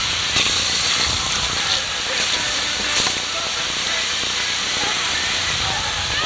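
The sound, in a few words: water boiling, hissing steam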